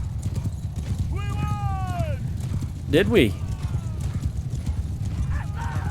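Horse hooves clip-clopping at a gallop in the medieval battle game Mount & Blade II Bannerlord, a steady rapid rhythm with neighs over it and a voice speaking briefly.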